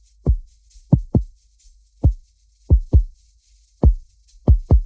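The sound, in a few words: synth drum pulsing like a heartbeat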